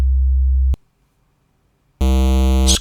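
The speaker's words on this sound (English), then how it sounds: "This is the sine wave" A sine wave oscillator on a Voltage Modular synthesizer gives a pure, low, steady hum for under a second and then cuts off. After a short silence a brighter, buzzier tone starts.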